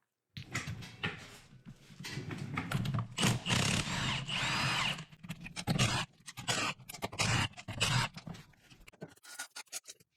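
A power tool whirs and grinds in loud bursts as it spins lug nuts off a Jeep's wheels in a home garage, with uneven on-off pulses and scraping between them.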